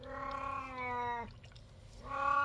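A cat meows in two drawn-out, whiny calls separated by a short pause, fairly quiet and close, with no other sounds and no talking.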